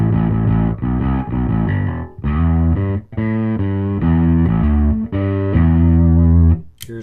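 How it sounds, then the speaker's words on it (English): Heavily distorted bass guitar through an Amptweaker Bass JR distortion pedal on its tight setting, playing a tight, punchy riff, loud and close, with short choppy notes separated by brief gaps. "This switch is called the tight switch, and what it does is it adjusts the attack of the distortion."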